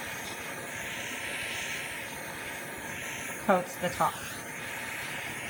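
A kitchen torch caramelizes sugar on top of a crème brûlée with a steady, close, airy hiss that runs throughout, while a voice speaks briefly near the end.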